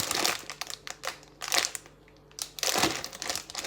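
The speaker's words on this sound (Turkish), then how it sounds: "Şimdi buzları çıkarttım. poşetin içine koydum. havasını basmam lazım bir dakika." Plastic bag filled with ice cubes, squeezed to press the air out: loud, close crinkling and crackling in several pressing bursts, with a brief quieter pause midway and no voice.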